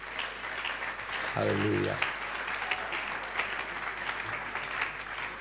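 Church congregation applauding, a dense steady clapping throughout, with a voice singing a short exclamation over it near the start.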